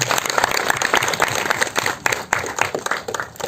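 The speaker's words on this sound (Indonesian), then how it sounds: "Untuk Galih Rakasiwi dan Ratna Suminar, kita berikan tepuk tangan. Tepuk tangan dong." An audience at a promotional event for the Indonesian film Gita Cinta dari SMA claps loudly, uneven bursts of many hands continuing throughout.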